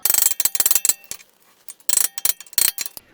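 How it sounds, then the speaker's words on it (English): Metal tools prying and clicking at the front wheel hub cap of a 2003-2015 Lexus GX470 with a loose left front wheel bearing: bursts of sharp metallic clicks and scrapes in clusters, close and fairly loud, with brief pauses. "I'm going to try to pop this cap off of here."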